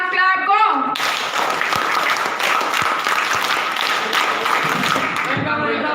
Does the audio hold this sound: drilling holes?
no